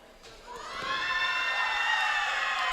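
A college women's volleyball team cheers on the wrestlers at a Cuesta College versus West Hills wrestling match, rising into sustained high shouts and whoops from a crowd in the gym.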